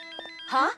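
A cartoon phone's ringtone in the Malay-dubbed Miraculous animated series plays briefly, a short melodic electronic chime of a few tones ending in a brighter burst, heard alone.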